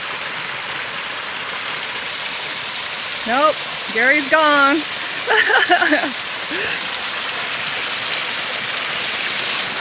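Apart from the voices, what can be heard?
mountain stream on the Pacific Crest Trail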